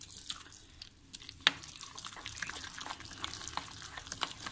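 Moong dal batter being stirred with a spoon after a little water is added, soft wet slapping and scraping strokes in an uneven rhythm, close and fairly quiet, with one sharper clink.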